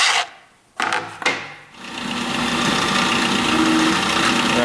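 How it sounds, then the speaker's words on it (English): A few short mechanical bursts, then a power drill grinds steadily through wood, close and loud, a continuous whirring bite. "drill halfway through, flip the board over"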